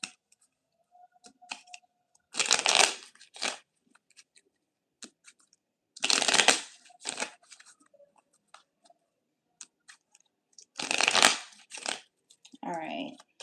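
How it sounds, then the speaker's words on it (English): Tarot deck shuffled in three distinct bursts of riffling card noise separated by quiet gaps, close and crisp, with small clicks and handling sounds between. "Get a good shuffle in here really quick."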